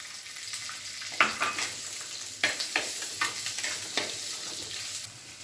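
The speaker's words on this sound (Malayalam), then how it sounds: "ഉള്ളി വഴറ്റി" Small shallots sautéing in a pan for a beef curry give a constant, fairly quiet sizzle up close, punctuated by several stirring scrapes and clinks of a spoon at irregular intervals.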